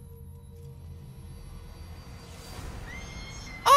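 A horse whinnies in the stealth video game Metal Gear Solid V, arriving near the end as a sudden loud burst after a low ambient hum with a faint passing aircraft-like drone.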